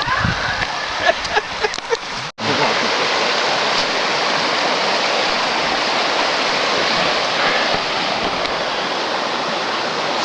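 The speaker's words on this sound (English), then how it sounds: "Three times we had to cross this creek." Creek water rushes steadily along a wooded hiking trail, a dense continuous wash of flow that briefly cuts out after a couple of seconds and then resumes at full strength, with faint rustling early on.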